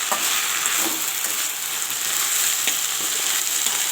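Jute leaves fry in a pan before going into red lentil dal, giving a dense, steady sizzle that hisses close and loud for the whole clip with no pauses.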